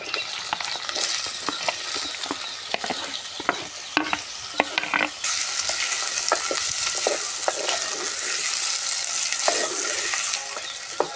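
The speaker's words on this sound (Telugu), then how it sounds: "ఆ తర్వాత పచ్చిమిర్చి దోశ ముక్కలు వేస్తున్నాను" Green chilies and cucumber pieces frying in a pan with cumin, a loud continuous sizzle with frequent scraping stirs and utensil taps throughout, no talk.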